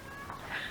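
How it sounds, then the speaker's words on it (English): A house cat meows once, faint and fairly close, in a quiet indoor setting, the cry rising near the end of the short moment. "here's the cat"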